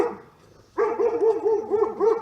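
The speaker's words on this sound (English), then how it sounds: "There is somebody walking down the alley. That's why the dog's barking." A dog barks at someone walking down an alley: after a quiet start, a rapid run of repeated barks comes in loudly and fairly close, continuing steadily to the end with no talk.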